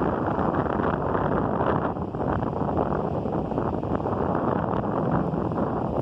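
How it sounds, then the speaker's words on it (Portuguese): Cold wind blowing across the top of a lighthouse hill in Torres, a steady loud rushing roar buffeting the microphone throughout, with no voices over it. "Vento friozinho"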